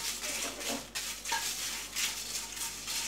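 Red chili powder roasting in a homemade sabji masala on a slow flame, a steady close hiss with soft scraping and stirring strokes throughout.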